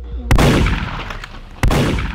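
Gunfire in a video game: two loud, sharp shots about a second and a half apart, each leaving a booming, reverberant tail that fades quickly.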